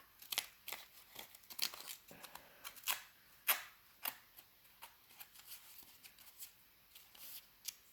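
Scissors trimming corrugated cardboard tag clips, a close run of quick, crisp snips and cuts with small rustles of the cardboard between them.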